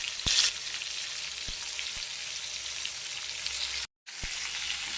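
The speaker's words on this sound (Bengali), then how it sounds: "বন্ধুরা দেখি ফুলকপি তেলের উপর ছেড়ে দিয়েছি। ভাজা ভাজাও অনেকটা হয়ে গেছে," Cauliflower pieces frying in hot oil give a bright continuous sizzle close by, with a few sharp clicks from the pan and a short gap of silence near the end.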